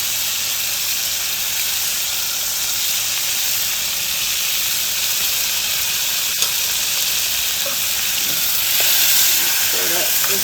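Capers dropped into a hot pan give a steady, loud sizzle and hiss with a small clink midway, as part of cooking a restaurant-style red snapper meal.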